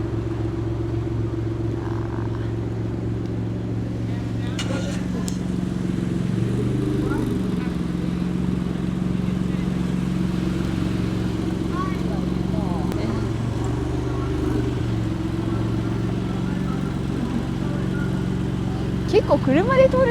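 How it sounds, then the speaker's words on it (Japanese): Steady traffic rumble from cars and motorbikes passing along a busy street on a winter night with Christmas illuminations, continuous and fairly close throughout, with people talking over it at times. "ここは車の通り多いですね。"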